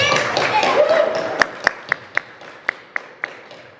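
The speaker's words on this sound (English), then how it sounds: "clap for them" Audience clapping at a community awards event, starting amid crowd chatter and then settling into about nine sharp, evenly spaced claps that ring out clearly as the murmur fades.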